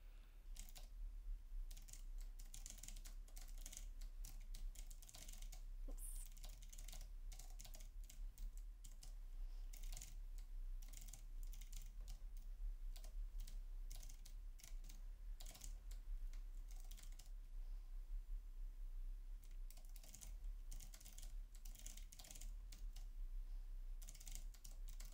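Steady typing on a computer keyboard while writing code, a continuous patter of quiet, rapid key presses with no pauses or talk, set against a low constant hum.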